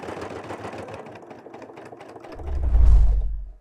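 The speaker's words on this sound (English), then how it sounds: "We're going to put the foot down, and we're going to sew." A Janome 9480 or Continental M8 sewing machine stitches fabric with a fast mechanical rattle. It is first heard behind the other sounds, then swells into a loud, close, low whirring run before stopping abruptly.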